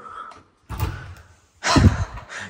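An apartment door in a building is opened, giving two heavy thumps with a rattling latch, separated by a short quiet pause, close and fairly loud.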